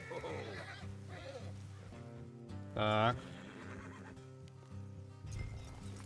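A horse neighs loudly once in Red Dead Redemption 2, a short bright whinny rising over steady background music, with a brief spoken word nearby.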